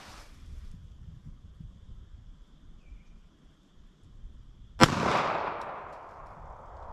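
A single sharp .380 ACP compact pistol shot cracks outdoors at 50 yards range, a loud bright report with a long decaying tail over steady wind noise.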